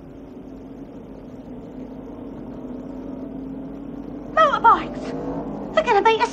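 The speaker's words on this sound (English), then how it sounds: "Motorbikes!" Motorbikes revving outside at night, heard from indoors as a rising, whining engine note that swells in two bursts over a low background rumble.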